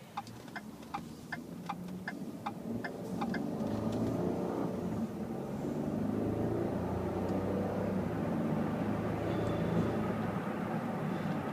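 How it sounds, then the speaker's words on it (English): A 2011 Ford F-150 EcoBoost turbo engine builds steadily as the pickup accelerates, a low droning rise with a faint turbo whistle on top, after a few light ticking clicks at the start. "as you can hear, the engine is very quiet. You can definitely hear some of that turbo whistle"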